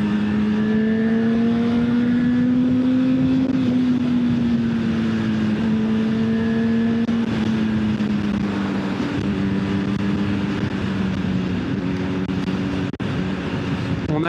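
A Honda CB1000 Hornet SP motorcycle engine, 2025 model, revving hard toward 8000 rpm on a country road, its loud sustained whine climbing, holding and easing through the gears close by.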